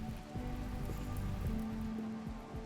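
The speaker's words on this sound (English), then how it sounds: "And then the rains come." Steady rain falls in the colony-building game RimWorld, a dense, even patter of drops on surfaces that fills the whole stretch at constant loudness, with faint tonal game sounds and no voices.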